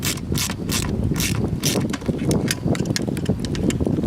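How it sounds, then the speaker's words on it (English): A ratchet set is used to tighten the bolt on a budget bank or surf rod holder, giving rapid, continuous clicking mixed with metallic clatter, close and fairly loud throughout, with no talk. "what I'm going to do is I'm going to take my ratchet set, tighten down on it,"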